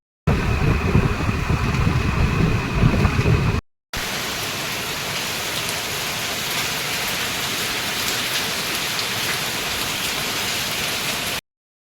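Heavy rain falls steadily with a dense, continuous hiss, after a short rumbling stretch, a brief silent break, then an even, unbroken downpour that lasts several seconds at close range.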